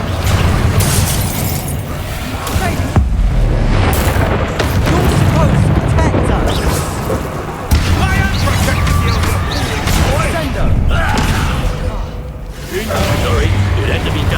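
Repeated booming fire-spell explosions with crackling and smashing hits in the video game Hogwarts Legacy during combat, dense and loud throughout, layered with a speaking voice and game battle noise.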